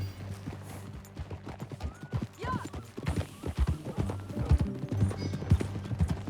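Horse hooves clip-clop at a steady riding pace in the Red Dead Redemption 2 video game, with a low musical drone and a brief whinny underneath.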